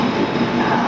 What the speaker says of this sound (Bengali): আমাদের ট্রেন ছেড়ে দিল খড়গপুর